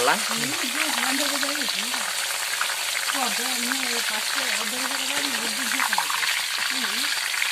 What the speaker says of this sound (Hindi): सोयाबीन तेलर भजा सरी